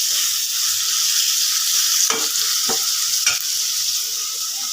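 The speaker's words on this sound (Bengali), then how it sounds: "মাছের জন্য আলু আর পেঁয়াজটা ভেজে নিতেছি আগে" Potatoes and onions fry in oil in a pan, a steady close hiss and sizzle throughout, with a few quick scraping stirs of a spatula breaking in and no voices.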